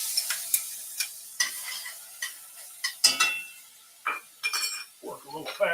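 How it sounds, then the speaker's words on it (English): Minced ginger and garlic sautéing in a wok over a wood stove, a soft sizzle punctuated by frequent metallic clinks and scrapes of a utensil against the wok, irregular and close. "just kind of saute them a little bit"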